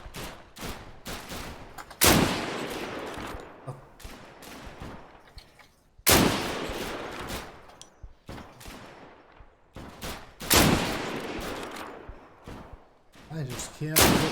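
Gunfire in the Deadside shooter game: three heavy shots or bursts land a few seconds apart, each followed by a long decaying tail, with scattered smaller clicks and thumps between them.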